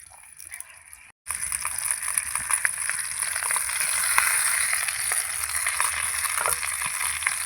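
Small mourala fish frying on a banana leaf laid in a pan give a steady, close sizzle with crackling hiss, starting abruptly after a brief quiet moment and continuing evenly with faint clinks.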